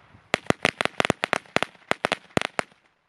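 A Triplex Pyrofun New Year's fireworks set bursts into roughly fifteen sharp, crackling bangs in quick irregular succession over about three seconds, fairly close, then falls quiet.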